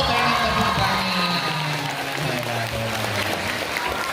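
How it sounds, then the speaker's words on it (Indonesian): Audience at a Sundanese wayang puppet show with religious preaching, cheering, shouting and clapping together in a loud, dense crowd roar that holds steady throughout. "Oh, pengen tepuk tangan."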